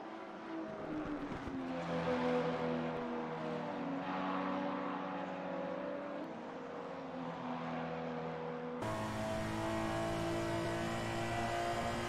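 Race cars at the Nordschleife during a Winter Cup finale roar along the straight, a sustained loud engine drone with shifting pitch as one car runs in another's slipstream.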